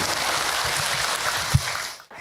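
An audience at a majelis taklim gathering in Citerep, Bogor, West Java, applauds in a steady, dense patter of many hands that runs nearly the whole moment and then cuts off abruptly near the end.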